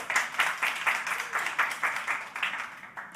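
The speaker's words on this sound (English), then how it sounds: "It's very nice to receive some actual applause and not added from the technical team" Audience applause fills an event room at a climate accelerator demo day, a steady burst of many hands clapping with rhythmic peaks, close and moderately loud, with no talking over it.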